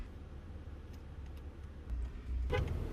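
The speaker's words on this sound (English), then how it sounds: "Now's the time to be assertive with that horn." A car horn sounds during a driving exercise that simulates steering failure, a short, loud honk near the end that rises above a steady hum of road and engine noise.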